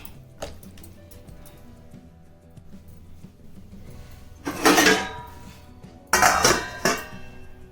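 A metal lid is set onto a cooking pot of potato and green pea curry in a home kitchen, giving two loud clattering clanks a little over a second apart over a quiet background.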